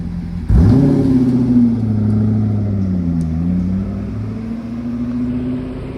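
A Chevrolet Corvette C6 sports car pulls away from a red light in Deauville, its engine rumbling loudly and nearby as it accelerates through gear changes, dropping and rising in pitch, with no talk over it.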